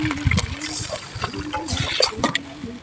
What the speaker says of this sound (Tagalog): Lagyan natin siya ng konting tubig.